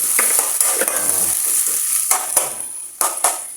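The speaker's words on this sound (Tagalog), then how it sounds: "Tapos isunod na natin yung sibuyas. Tapos haluin." Onion frying in a hot pan with garlic, stirred with scrapes and clatters of a utensil over a steady close sizzle, sharper stirring knocks near the middle and end.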